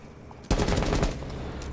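A burst of rapid MP5 submachine gun fire erupts in Rainbow Six Siege, loud and close, after a quiet lead-in, then fades into a lingering echo.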